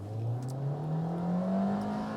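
A 2024 Hyundai Venue in sport mode accelerates hard after a brake boost launch, its engine droning loud and close with a steady rising pitch through the whole stretch.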